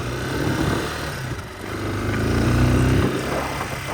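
A motorcycle engine runs steadily at a low, throbbing pitch while riding slowly along a rough, rutted dirt road, close and loud, with slight swells in revs.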